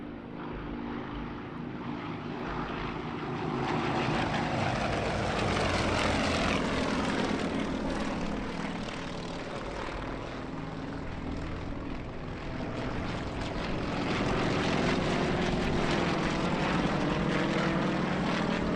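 Propeller aircraft fly aerobatic half-Cuban manoeuvres at the Portugal Air Summit 2018 airshow, their engines droning loudly with pitch rising and falling as they swoop past.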